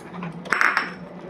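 Salt, cumin powder and chili powder are stirred with water in a bowl for a fish rezala, producing a brief cluster of light metallic clinks of a spoon against the bowl over a quiet background.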